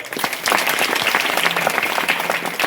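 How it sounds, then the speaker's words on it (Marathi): An audience gives hearty applause for young pakhawaj students at a devotional gathering. The clapping is dense and sustained, with no voices over it. "या सगळ्या विद्यार्थ्यांसाठी एकदा जोरदार टाळ्या."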